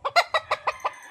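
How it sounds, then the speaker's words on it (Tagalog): A gamefowl at a game farm clucks in a quick run of six sharp, close calls, loud and evenly spaced, with no other voices. "Ayan oh, mga quality manok oh."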